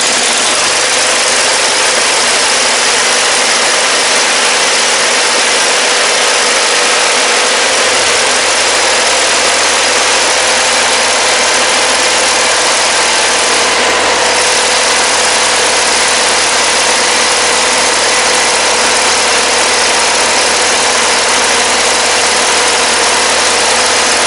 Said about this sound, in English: we just saw this thing runs really good